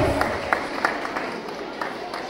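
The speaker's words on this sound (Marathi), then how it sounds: "सर्वांनी त्यांच्यासाठी एकदा टाळ्या वाजवायच्या आहेत" An audience at Bharati Public School in Karjat claps for students who won gold medals in a math Olympiad exam: a steady, dense patter of many hands fills the room, with a few sharper claps standing out.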